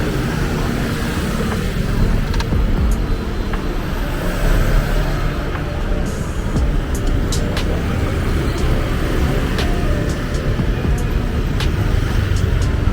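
Busy street traffic in Ho Chi Minh City, a dense, loud continuous roar of motorbikes and vehicles passing close by, with occasional sharp honks and clicks over the steady rumble.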